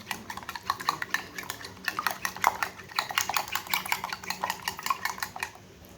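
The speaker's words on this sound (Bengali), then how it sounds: "ডিমটাকে ভালো কিন্তু ফেটিয়ে নিতে হবে যত ফেটাবে ততই কিন্তু ভালো" A utensil whisks eggs in a bowl for a broccoli recipe, making fast, rhythmic clinking strokes against the bowl that run steadily and close up throughout.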